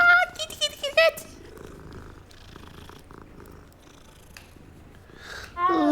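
A cat purrs steadily in the Hogwarts Legacy video game, a soft continuous rumble in the middle stretch, with a person's voice talking at the start and again at the end.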